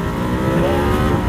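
A 2020 Ducati Diavel 1260 S motorcycle accelerating hard, its engine a loud, continuous, close roar that builds steadily through the clip with no pauses.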